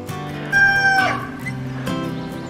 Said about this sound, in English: All the chickens must be coming out that it stopped raining.